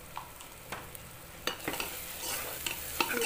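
Mutton masala with coriander powder being fried and stirred in a pan for dhaba-style mutton curry: a soft sizzle under repeated scraping strokes of a spoon, fairly quiet and close, with no talking.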